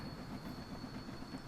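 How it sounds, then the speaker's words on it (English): Steady low rumble of a freight train rolling over a bridge at night in a railway simulator, with continuous wheel and wagon noise and a thin constant high whine, no talk. "Let's get a nice shot of the train"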